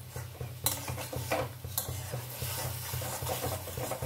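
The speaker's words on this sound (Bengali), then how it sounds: "এবারে আমি আলু পটল ভাজাটা যে ভেজে রেখেছি সেটা আমি এর মধ্যে দিয়ে দিলাম, দিয়ে কষিয়ে যাবো।" A spoon stirs pre-fried potato and pointed gourd into a curry in a pan, scraping and clinking at a steady pace with a few sharper scrapes and a low hum underneath.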